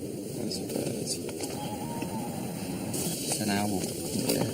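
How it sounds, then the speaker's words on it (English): An owl calls at night outside Pengersick Castle, a faint low hooting coo under steady background noise and people talking nearby. "It's an owl."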